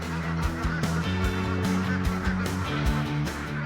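Ducks herded through a harvested rice field in Indonesia give off a dense, continuous chorus of honking quacks from a large flock nearby, steady and loud throughout with no talk.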